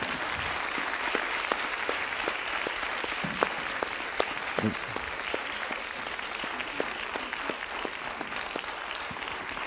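Sustained audience applause at a round-table session of a fitness federation congress in Arcachon, a steady wash of clapping with distinct individual claps standing out, lasting nearly ten seconds without talking.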